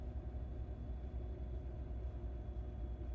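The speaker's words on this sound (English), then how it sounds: "The truck sounds different." Truck engine in American Truck Simulator, a steady low rumbling drone, close and continuous, with no speech.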